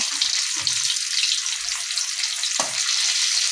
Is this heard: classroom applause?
no